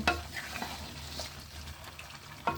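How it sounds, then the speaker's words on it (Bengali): Duck meat stir-fried with spices and chui jhal in a pan, a close sizzle broken by several scraping stirs of a spatula. "ভালো করে কষাতে হবে"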